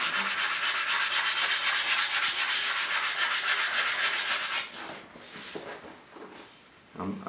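Sandpaper rubbing back and forth on the body of a vintage Gibson Les Paul Custom guitar, a close, steady rhythmic rasp of quick strokes that stops after about five seconds, followed by faint scattered handling.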